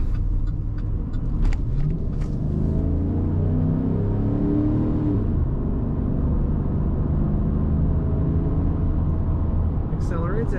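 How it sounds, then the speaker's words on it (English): A 2013 Chevrolet Silverado 1500 regular-cab pickup with an automatic transmission accelerates from inside the cab, its engine note rising steadily as a loud, continuous drone. "Accelerates as you would expect."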